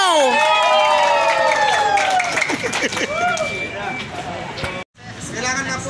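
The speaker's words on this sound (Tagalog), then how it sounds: "lakasan ng palakpak!" A crowd at an S&R store in Bacoor shouts and cheers with scattered clapping, overlapping voices and excited calls, loud and close, with a brief cut near the end.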